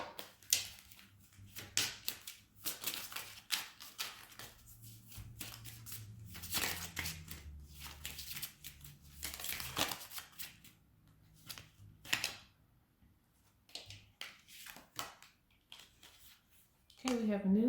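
Tarot cards from the Numinous deck are shuffled and pulled, giving soft, close riffling and sliding bursts that come and go in irregular spurts alongside occasional spoken words.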